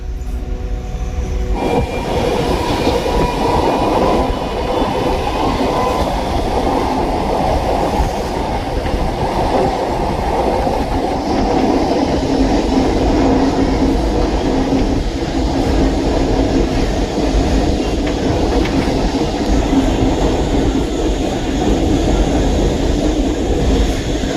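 An MRTS suburban train runs between Velachery and St. Thomas Mount, a steady loud rumble of wheels on rail with faint clickety-clack joints, continuous for the whole stretch with no voices.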